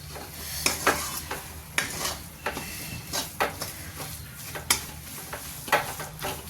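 A filling being stirred in a pan as a heap of fresh coriander goes in, with repeated clinks and scrapes of a spoon against the pan over a soft sizzle, close and moderately loud.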